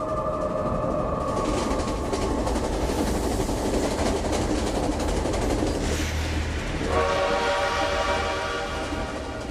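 A train at a railway station with gas lamps, heard as steady, loud rail rumble and clattering wagons throughout, with a brighter squealing, horn-like tone rising near the end.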